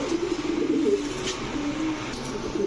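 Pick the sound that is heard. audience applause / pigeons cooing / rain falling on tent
pigeons cooing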